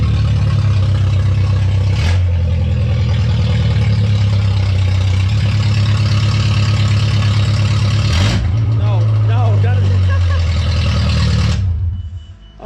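A 1.8T engine-swapped VW Golf 3 with a broken exhaust idles loud and close, a heavy steady droning rumble that lifts briefly in a couple of short blips before cutting off at the end.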